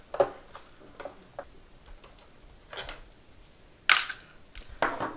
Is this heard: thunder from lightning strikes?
no